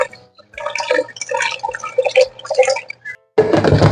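Water is poured into a blender jar over tomato sauce ingredients with salt, pepper and oregano, giving a close, bubbling, gurgling splash for about three seconds, then a brief gap and a louder rushing pour.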